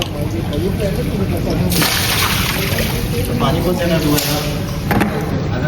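Water sloshes and splashes steadily inside a large water storage tank being cleaned, a continuous churning wash with voices talking nearby.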